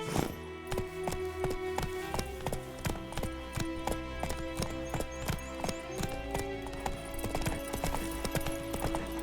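Roach, a horse in the video game The Witcher 3 Wild Hunt Next Gen, trots with steady, close clip-clopping hoofbeats in an even rhythm, with a faint whinny in the background.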